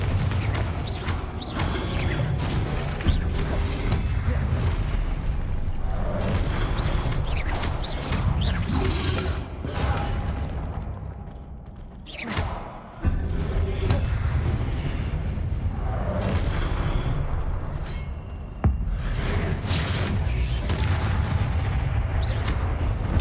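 Explosion spells cast in the game Hogwarts Legacy go off over and over as dense booming blasts and crashes, loud and near, with a brief lull partway before the bursts resume.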